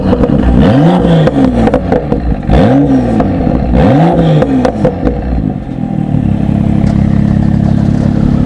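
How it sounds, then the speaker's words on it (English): A BMW M2 with a Remus exhaust revs loudly three times in a row, exhaust roaring up and dropping back, then settles into a steady rumbling idle. "By far the best sounding exhaust on the market."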